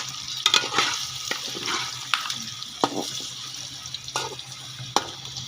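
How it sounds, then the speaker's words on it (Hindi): Potatoes fry in a pan with a light sizzle, broken by repeated sharp scrapes and knocks of a spatula at an uneven pace. The potatoes are for a desi Punjabi-style macaroni dish. "थोड़े आलू फ्राई कर रही हूँ।"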